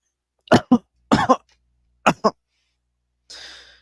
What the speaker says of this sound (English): The coughing is at least comedically helpful, because it makes it sound like you're choking